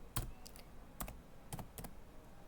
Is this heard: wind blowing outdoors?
no